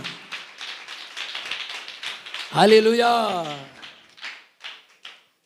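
A church congregation clapping hands to glorify the Lord, a steady run of many claps with a voice calling out in the middle, then the clapping thins into a few scattered claps.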